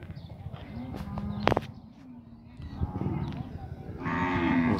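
Nelore cattle low and moo in a pen at a livestock fair in Tabira, Pernambuco, a few drawn-out calls at moderate distance amid rustling and murmuring background noise.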